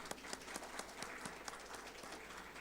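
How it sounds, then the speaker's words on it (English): Audience applause at a live SAP Inside Track tech community event in Kolkata, quiet and somewhat distant scattered clapping with individual claps standing out, running steadily with no speech over it. "Can we have a big round of applause, please?"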